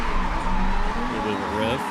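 A car drifting in Forza Horizon, engine droning steadily with the rear tires skidding through a corner, heard under someone talking.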